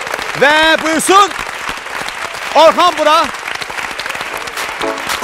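Studio audience at an evening game show clapping in a steady wash of applause beneath a presenter's loud, excited voice, with a few sharper bursts near the end.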